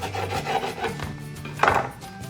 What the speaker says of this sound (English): I'm just gonna cut 1 slice of it here